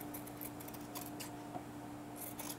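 Scissors snip through fabric to cut flower petals, giving several quick crisp cuts in short bursts, close up and quiet.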